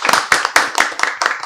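A crowd at a church-style family healing programme claps in a fast round of applause, with sharp, fairly loud claps coming in quick uneven bursts and no voices over them.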